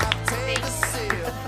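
A few sparse hand claps in a studio talk show, about four or five evenly spaced sharp pops over a steady low hum, with no voices in between.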